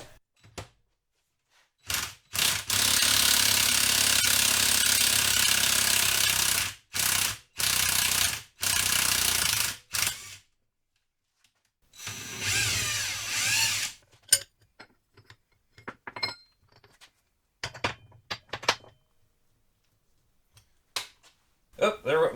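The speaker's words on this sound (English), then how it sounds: "We're just going to run this down and it should pull this bearing right off of here" A Vevor bearing removal tool whirs in several loud bursts of a few seconds each, pulling a bearing off a Dana 60 axle, followed by scattered clicks and clanks of metal parts.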